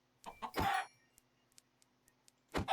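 Chicken clucks from the Farming Valley video game, a short burst early on followed by another at the end, with faint ticking in the quiet between.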